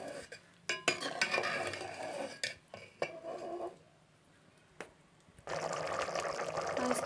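Matar pulao being mixed in a pot, with repeated scraping and clanking of a spoon against metal in uneven bursts, a short quiet pause, then a longer stretch of stirring and rustling, close by.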